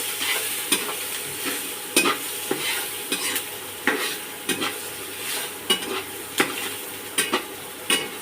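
Prawns with coconut are stirred in a hot frying pan for a Bengali chingri bhuna, with sharp rhythmic spatula scrapes roughly every half second over a soft background sizzle.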